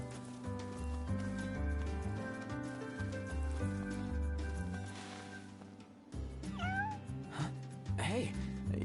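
A cat in the video game Bob the Blob gives a few short meows near the end, following a stretch of layered game music and ambient sound, with no speech.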